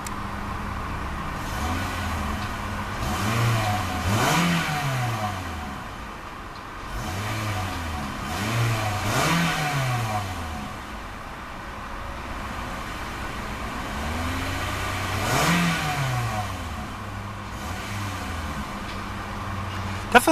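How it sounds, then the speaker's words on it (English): A 2014 Toyota Corolla S Plus with a small 4-cylinder engine is revved in a series of quick blips, each rising and falling sharply, with short pauses of steady idle between them, heard fairly close and alone. "let's see about a few revs with that tiny little 4-cylinder engine and see what kind of soundtrack she produces"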